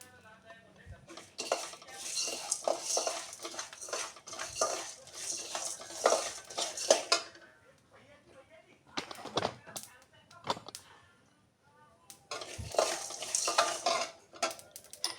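Coriander seeds dry-roasting in a pan, with clattering scrapes of a spoon stirring them in bursts and short pauses between, close and fairly quiet, and no speech over it.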